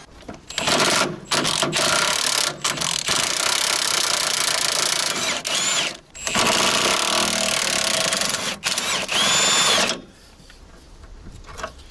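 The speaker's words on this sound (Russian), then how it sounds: "Откручиваем кронштейны кабины." A power tool whirs loudly in long bursts with short stops between, then cuts off and leaves a quiet hum, as a ratchet unscrews cab bracket bolts on a Volvo FH12 truck.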